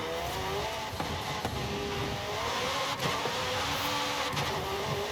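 A supercar engine in the Forza racing game, revving hard with near-instant gear changes, steady loud engine drone with brief shift breaks, no talking.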